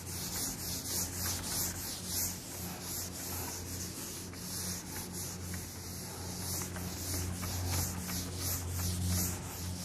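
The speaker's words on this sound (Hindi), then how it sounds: "मैं रब करता हूँ। ठीक है, रब कर दूँ" A teacher rubs a duster across a classroom board during a physics lecture on vectors, giving a steady, continuous scrubbing and wiping sound at close range for the whole stretch, with no talking.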